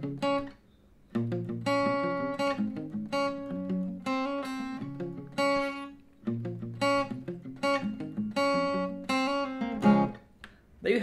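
Guitar playing the main riff of a song, clear plucked notes in repeated rhythmic phrases with short pauses between groups, close and alone.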